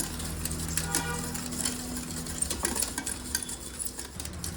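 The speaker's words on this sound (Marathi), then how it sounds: "यात आपण आता हे जे दूध घेतलं होतं तेही घालूया व ते छान आता एकजीव करूया." Vanilla rava cake batter being stirred by hand as milk is mixed in, with a steady scraping of a spoon against the bowl and small clinks, close and moderately loud, with no talking.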